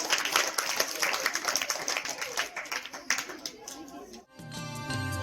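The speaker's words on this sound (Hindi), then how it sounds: "जोरदार तालियों से स्वागत भावना का।" An audience at a school blessing ceremony claps loudly for about four seconds, then the applause cuts off abruptly and music begins.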